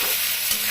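Prawns, potatoes and onions frying in a pan give a steady, close hiss with no pauses, and one brief stir or scrape partway through. No voices.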